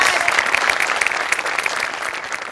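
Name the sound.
audience applause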